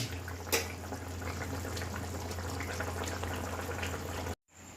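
Bhola fish curry with fish heads added simmers in a pan, a steady bubbling boil with a low hum underneath, one brief clink early on, then cutting off abruptly near the end.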